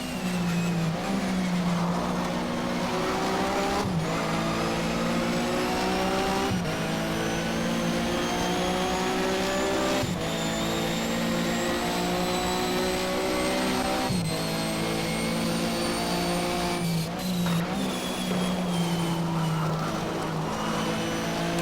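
Porsche Mobil 1 Super Cup race car engine at Brands Hatch in the Race07 game, a loud sustained engine note rising and falling through gear changes, with brief dips at each shift and faint tire noise.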